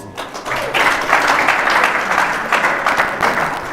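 Loud, close crowd applause during a Nigerian election candidates debate, a thick rolling burst of clapping that swells after the first second and carries on steadily to the end.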